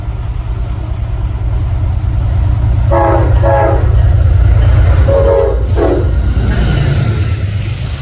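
An MTA commuter train with M7 cars rumbles past loudly and close in Riverdale, with a couple of short horn blasts sounding midway over the continuous roar of the cars.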